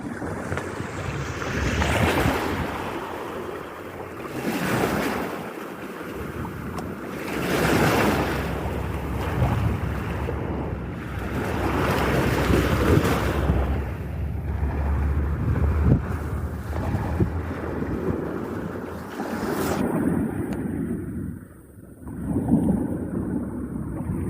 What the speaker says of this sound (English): wave came over the top